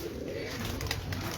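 A breeder pigeon on a Lahore rooftop coos in a brief low, throaty murmur amid steady background noise.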